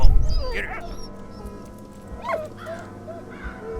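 A dog in the Valiant Hearts video game whimpers and gives soft yips and short barks, close and fairly quiet, spread across a few seconds over a low background rumble.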